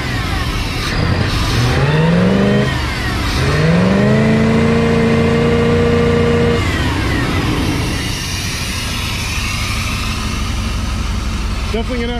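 An old engine with leaking, fuel-dumping injectors runs rough, loud and close, its pitch rising and falling as it revs in bursts before settling into a ragged idle, with a voice talking over it.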